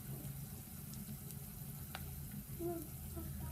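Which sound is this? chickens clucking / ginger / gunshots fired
ginger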